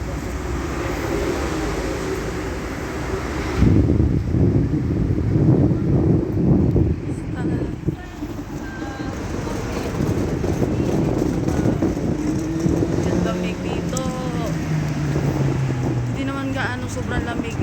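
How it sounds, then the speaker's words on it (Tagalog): Strong, cold wind blows outdoors near a park, roaring steadily and buffeting the microphone throughout, with a low rumble of passing traffic underneath. "Kaya lang yung hangin malakas, kaya malamig masyado."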